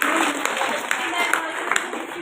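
A temple crowd claps together for a child's birthday during Ratha Saptami festivities: a dense, steady patter of many hands with sharper individual claps popping out, sustained throughout.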